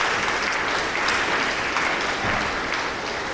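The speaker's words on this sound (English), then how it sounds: "Big round of applause." An audience at a junior high awards program applauds students called forward, a steady, even clapping from a sizeable crowd throughout, fairly close and with no talking.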